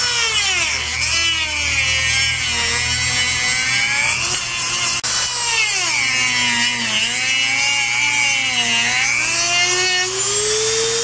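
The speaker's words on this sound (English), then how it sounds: "I'm just going to make channels in the wood with the Dremel tool." A Dremel rotary tool cuts channels into wood with a loud, continuous high whine whose pitch dips and rises as the bit bites into the grain, running close and unbroken throughout.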